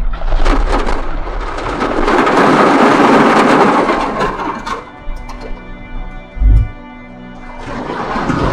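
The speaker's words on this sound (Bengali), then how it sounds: "ওই রাস্তার উপরে যে ঝর্ণাটা পড়ছে," A Himalayan waterfall pours onto a mountain road in Darma Valley, a loud close roaring rush of falling water that fades after a few seconds, followed by a short low thump.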